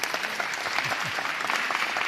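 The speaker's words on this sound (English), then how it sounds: "yes, applause," Lecture audience applauding at a public talk, continuous dense clapping from a large crowd throughout, with a brief voice murmur underneath.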